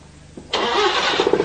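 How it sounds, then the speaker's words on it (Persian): Paykan car engine triggered by voice command: after a brief quiet moment it suddenly cranks and catches, settling into a loud close running hum. "موتور روشن بکن."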